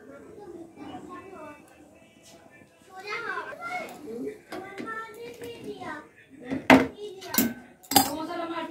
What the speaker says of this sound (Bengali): আর ওদিকে পুট্টু আর গোপুর ঝগড়া হচ্ছে, মারপিট হচ্ছে, তোমরা শুনতেই পাচ্ছ মনে হচ্ছে